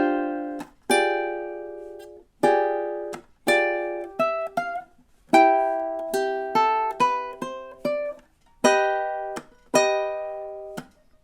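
Ukulele strums a bossa nova rhythm, with clear chord stabs and short gaps repeating in a syncopated pattern, played alone and close.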